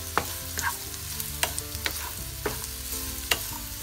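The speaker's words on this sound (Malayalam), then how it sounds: "ഉള്ളി ഒന്ന് നന്നായി വഴറ്റാം." Onion sautéing with chicken in a pan over low flame, a soft continuous sizzle punctuated by several sharp spatula taps and scrapes against the pan, close by and without speech.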